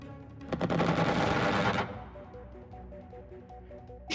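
A rapid burst of weapon fire from an aircraft in the video game Xenonauts, a loud rattling volley that cuts off abruptly, leaving quieter game tones behind.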